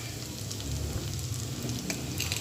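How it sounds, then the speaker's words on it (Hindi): Spices for aloo salan frying in oil, a soft, even sizzle that carries on at a low level without breaks, close but quiet, with no voices over it. "सिर्फ इसको चंद सेकंड इसमें फ्राई करना है ऑयल में"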